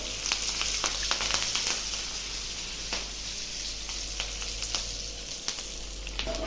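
Oil sizzles steadily in a pan while seasoning for gongura dal fries, a close, even crackle with scattered sharp pops and no talk.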